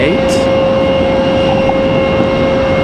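An American Airlines Boeing 737-8 arriving at Raleigh-Durham airport, heard as a loud, steady jet engine roar with a sustained whine, continuous and close throughout.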